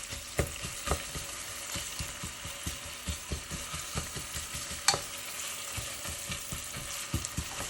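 Chopped onions fry in a pan of oil and butter, a soft continuous sizzle broken by regular scraping knocks of a spoon stirring against the pan, close and fairly quiet with no talking.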